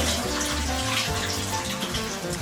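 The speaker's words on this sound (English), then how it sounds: "you need to run some cold water to end the cooking process" Cold water runs continuously from a kitchen tap in a steady, moderately loud rush, with no one speaking.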